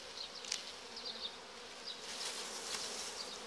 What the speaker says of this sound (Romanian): Uitați cum stă albina.